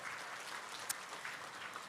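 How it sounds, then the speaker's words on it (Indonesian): Faint, distant applause from an audience at a skincare product presentation, a soft steady patter of many hands with no speech over it. "gak kasih tepuk tangan dong buat Atomy"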